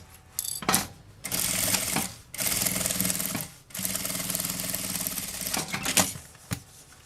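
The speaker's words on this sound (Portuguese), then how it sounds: "Pronto, passei a costura." A domestic sewing machine stitching the side seam of a small fabric bag, running in fast rattling bursts with short pauses between them, close and clear, with no talking.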